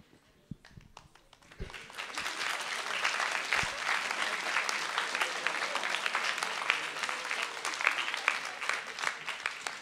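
An audience breaks into sustained applause after a public discussion on mathematics, a dense, steady patter of many hands that starts after a few isolated claps and keeps going loud to the end.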